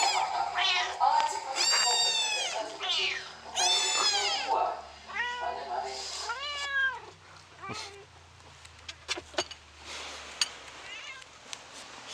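Recorded cat meows are played back inside a van, a series of loud, drawn-out kitten-like calls repeating for several seconds before giving way to quieter clicks and rustling.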